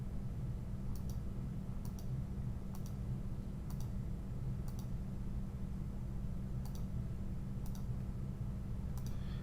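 Computer key presses and mouse clicks tick out one at a time, about once a second in a steady rhythm, sharp and close over a low constant room hum.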